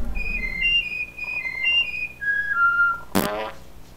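A sequence of short, bright game whistles from Oddworld: Abe's Oddysee, rising and falling in stepped notes at a steady pace, followed by a brief, loud, noisy puff near the end.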